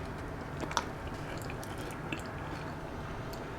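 Close, soft chewing of Thanksgiving food during a mukbang, with wet squishy bites and a few faint crunches repeating at a relaxed pace.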